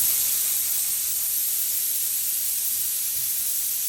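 Compressed air hisses steadily and continuously from the nozzle of an electrostatic spray gun, a close, even broadband rush with no breaks.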